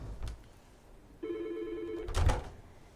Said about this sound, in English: So we're going to take this phone call.